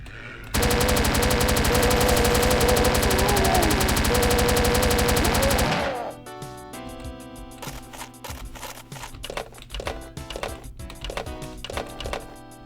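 Chaingunner enemies fire miniguns in the video game Doom, a loud, rapid, unbroken stream of gunfire lasting about five seconds that cuts off, followed by scattered shots and impacts amid game music.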